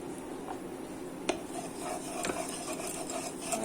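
Mustard oil being spread around a kadai for a chotjoldi batter, a soft continuous scraping and rubbing of a ladle against the metal wok with a few sharp clinks, steady and close.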